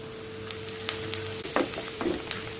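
Onions frying in hot oil in a pan, a soft continuous sizzle with a couple of brief scraping stirs of a spoon and a low steady hum underneath, fairly faint and without talk.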